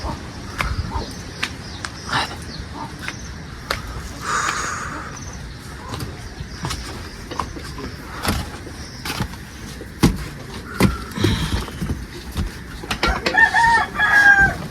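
A rooster crows in the distance near the end, with scattered clucks and faint background noise throughout, in a morning village setting in Bandarban, Bangladesh.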